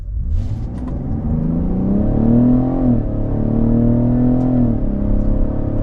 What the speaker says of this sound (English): Nice and straight, and now we'll take off.